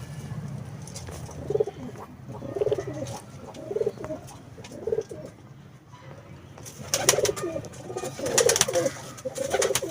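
Teddy pigeons coo in repeated low, throaty phrases, steady and fairly close, with a brief lull midway before the cooing picks up again over faint background noise.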